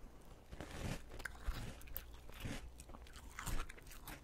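Close, binaural crunching and chewing of rice honey ring cereal in milk, with irregular crisp bites and soft wet mouth sounds repeating over a few seconds, quiet and intimate with no talking.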